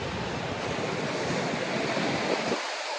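Heavy rain pours outdoors as a steady, dense hiss with low rumbling noise from wind buffeting the microphone. It is loud and constant throughout and heard alone, then cuts off abruptly near the end.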